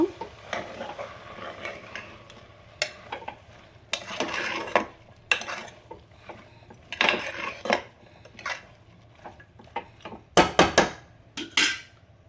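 Vegetables for godhi nuchina upma, a broken-wheat dish, are stirred in a metal pan with a spoon, giving irregular scraping and clinking strokes in uneven bursts over a low steady hum, with no talking.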